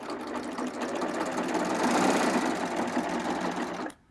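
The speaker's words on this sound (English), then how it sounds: "I'm just going to serge off." A serger sewing machine runs steadily as it serges off fabric, a fast, continuous mechanical whir that stops abruptly at the end.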